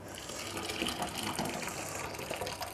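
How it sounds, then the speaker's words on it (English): Cooked organic garden potatoes, skins on, being drained, with a continuous rushing gush of water pouring out steadily and fairly quietly for the whole stretch, no voices over it. "Next, we're going to just drain our potatoes, which are cooked."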